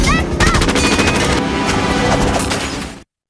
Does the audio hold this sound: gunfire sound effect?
yes